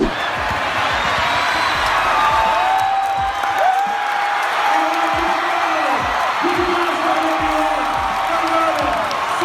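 A dense, roaring crowd of basketball fans cheers and whoops as they rush the court after an upset win over Nevada at Utah State, with a constant wall of noise and squeaking sneakers cutting through, loud and close.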